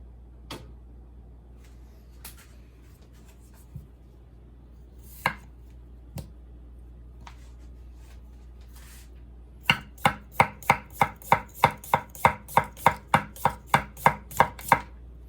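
Enso SG2 Kiritsuke knife striking a cutting board, a few scattered single cuts followed by a fast, even run of about a dozen crisp chops, close and clear with no talk.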